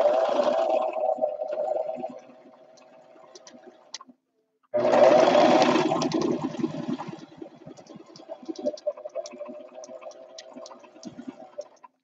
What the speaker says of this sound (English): And I'm straight stitching.